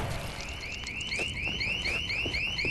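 A car alarm in the video game Dead Island 2 blares a rapid, repeating series of rising whooping tones, loud and continuous with no talking over it.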